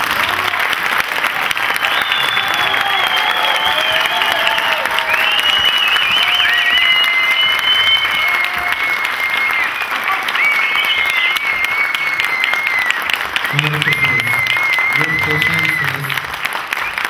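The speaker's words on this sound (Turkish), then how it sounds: "Alkışlarınızla Türkiye'nin yaşam koçu Murat Çuvalar geliyor." Audience applause greeting a life coach as he is called onto a comedy stage, sustained loud clapping throughout with music and a voice riding over it, and a few low thumps near the end.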